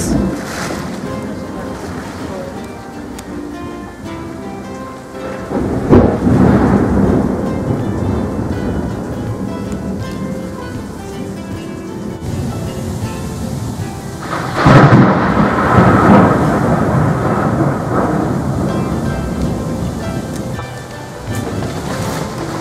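Heavy rolling thunder rumbles through a steady storm in Vietnam, with two louder cracks swelling and fading amid wind and rain, close and powerful.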